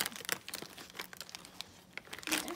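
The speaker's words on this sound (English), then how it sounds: "You put all in the same wrapping paper that you used last year." Wrapping paper crinkling and tearing as a birthday present is unwrapped for a senior dog, a run of close, brisk rustles and rips with a louder tear near the end.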